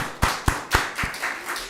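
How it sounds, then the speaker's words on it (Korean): Church congregation claps briefly to welcome new members, a few distinct close claps in quick succession fading into a softer patter. "감사한 마음으로 다시 한번 환영의 박수 하겠습니다"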